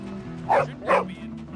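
Dog barking in the video game Bully: two short, loud barks about half a second apart over a steady low game background hum.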